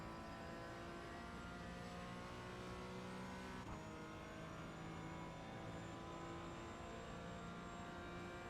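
Porsche 718 GT4 racing in iRacing at Road Atlanta at night, with a loud, steady engine drone at high revs held throughout, a brief shift in pitch midway, no talk.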